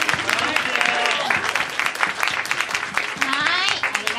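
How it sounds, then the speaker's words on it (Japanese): Audience applause at a school festival stage show, crowd clapping continuing throughout while a voice talks over it, fairly loud and close. "今一度大きな拍手をお送りください。"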